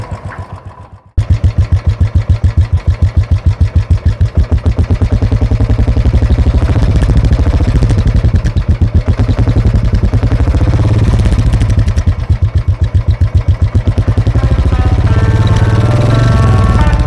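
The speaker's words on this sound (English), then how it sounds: "हम एक बार इसको बाइक को ऑन करते हैं" A Royal Enfield Thunderbird 350cc motorcycle engine starts after a second of quiet and settles into a loud, steady, rapid thumping idle, close up, with no talking.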